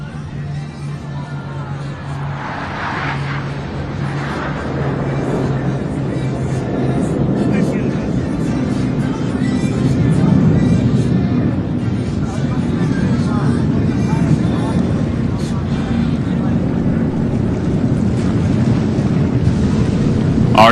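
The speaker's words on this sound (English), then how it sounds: "the Thunderbirds are in the challenging trail formation, with each wingman flying just a few feet from the aircraft in front of them" US Air Force Thunderbirds jets flying in trail formation at an air show: a broad roaring jet wash that swells and holds over a murmuring crowd, with an announcer's voice running underneath.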